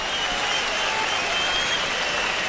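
Crowd applause at a boxing match, a steady dense wash of clapping filling the arena and holding level for a couple of seconds without a break.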